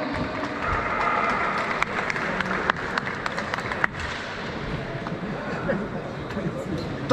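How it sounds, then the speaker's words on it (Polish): Crowd applause and cheering at the finish of the 2022 Skyway Run race at Gdansk Airport, a steady broadband clatter that holds throughout, with a voice talking over it. "Wielkie brawa."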